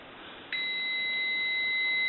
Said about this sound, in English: it does have a slight dial tone now that the telephone's been repaired